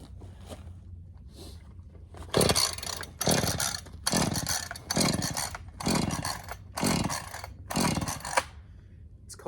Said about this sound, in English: Chainsaw doesn't want to start.